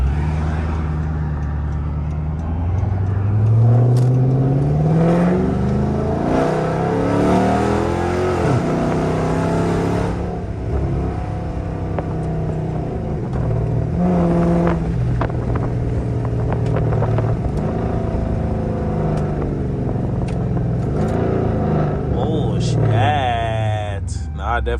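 Dodge Charger R/T V8 engine revving as the car drives, loud and steady throughout with rising and falling pitch sweeps through gear changes, plus faint wind noise.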